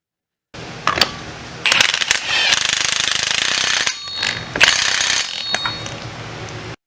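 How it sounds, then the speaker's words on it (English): Rapid ratcheting and clattering mechanical rattle of a wrench or impact tool working on a car wheel bearing, in loud sustained bursts with short pauses between them, close up. "Okay, so we'll grab on with our wrench down here."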